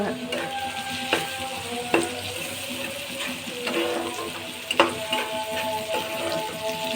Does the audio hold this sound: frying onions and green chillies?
yes